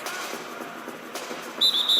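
A referee's whistle calls a travelling violation during an NBA playoff game between the Phoenix Suns and the Los Angeles Lakers. Two short, shrill blasts cut through the steady arena crowd noise.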